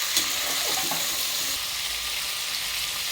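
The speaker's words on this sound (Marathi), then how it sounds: "आता हे सगळं आपण छान यात थोडंसं परतून घेऊ" Cauliflower, peas and other chopped vegetables sautéing in a pan for masala bhat, a steady soft sizzle and hiss with a few faint stirring clinks early on, close and fairly quiet.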